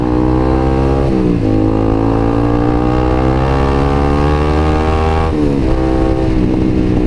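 A motorcycle on an Indonesian road accelerates past a minibus. The engine revs rise steadily, drop sharply at each gear change and climb again. The sound is loud and close, with no talking over it.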